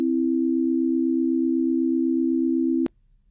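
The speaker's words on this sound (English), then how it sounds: "We just created a collection of sine waves" Computer-generated sine wave from Python: a single steady pure tone held evenly for nearly three seconds, then cut off abruptly, leaving faint background hiss.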